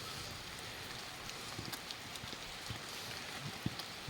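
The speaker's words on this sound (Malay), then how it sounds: "Hujan. Hujan lebat." Heavy rain falls in the forest on a mountain hike on Gunung Hijau near Taiping, a faint, steady hiss dotted with scattered drips and taps.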